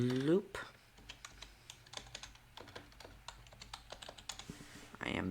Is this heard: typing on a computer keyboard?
yes